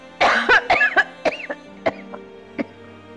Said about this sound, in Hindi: आपको कहा है मैंने इस तरह मत खांसा करें।